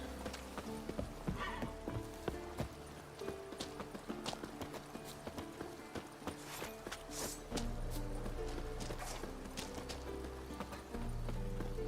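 Roach the horse trots along in The Witcher 3, hooves clip-clopping in a steady, repeated rhythm over a bed of game music throughout, with an occasional snort or whinny.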